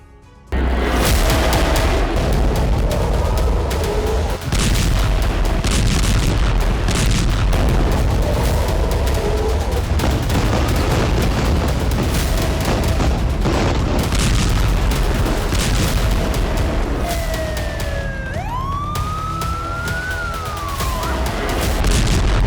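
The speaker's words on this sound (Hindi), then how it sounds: "उत्तरी गाजा से दक्षिणी गाजा तक बीती रात इजरायली सेना की भीषण बमबारी" Explosions during an Israeli bombardment of Gaza: loud, continuous rumbling blasts and heavy booms fill the scene, with a siren wailing and rising near the end.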